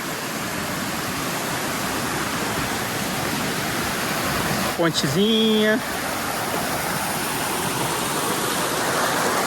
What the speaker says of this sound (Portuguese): Tem uma cachoeira ali embaixo que eu gostei dela.